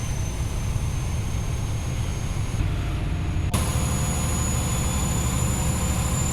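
HST diesel train engine in Train Simulator 2017 on the Exeter to Paignton route, a continuous heavy low drone with steady hum and no clear pauses, loud and unbroken throughout.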